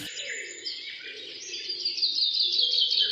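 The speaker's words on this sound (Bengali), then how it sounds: "এক টুনটুনি পাখি।" A tailorbird in a cartoon story gives a bright, continuous high chirping trill, clear and close, rising slightly in intensity toward the end, with a faint lower tone beneath and no speech.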